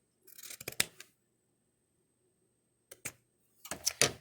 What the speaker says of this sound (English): we're going to cut a diagonal and cut at a diagonal and cut again